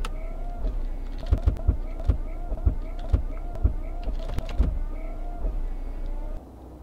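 Windshield wipers on a truck in the Heavy Cargo truck simulator game sweep back and forth in a steady rhythm, each pass ending in a thump, over rain and a low idling engine. The sweeping stops near the end.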